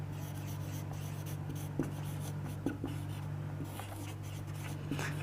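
Marker or chalk writing a matrix on a classroom board during a class 9 maths lesson, a few soft strokes and taps over a steady low room hum, with no talking.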